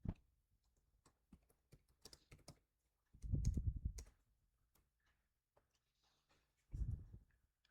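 Keys clatter on a computer keyboard as a search term goes into a cloud console search bar: quiet, quick keystrokes broken by two duller, heavier bursts of rapid tapping.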